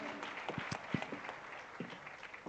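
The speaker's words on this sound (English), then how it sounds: "Let's give her a big round of applause" Attendees at an African leadership convening clap in a soft, scattered round of applause with a few distinct louder claps, heard from a distance.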